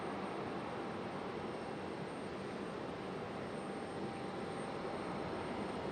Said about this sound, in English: Got one, sounds like it's departing over there or something.